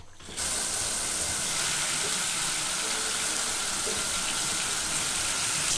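A tap runs steadily at a sink while water is readied to bathe pugs, a constant close hiss of flowing water that begins abruptly and continues unbroken.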